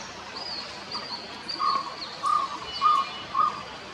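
An owl from a bird seen only in Rajshahi calls four times in short, evenly spaced notes over a faint, steady background hiss.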